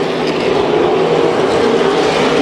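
Super late model race cars roaring around the Las Vegas Bullring, a loud continuous engine drone with a steady pitch and no letup, heard close and dominating everything, with no talk over it.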